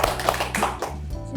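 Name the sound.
audience clapping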